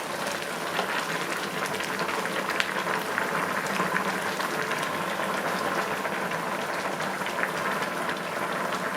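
Food with sun-dried tomatoes simmers in a sauté pan, a steady close bubbling and sizzling hiss that continues evenly throughout.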